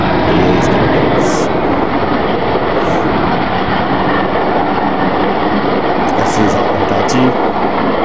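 Two locomotives haul the Bahawalpur Express, a loud, steady rumble of engines and rolling wagons that fills the whole stretch, with faint clicks of wheels over rail joints.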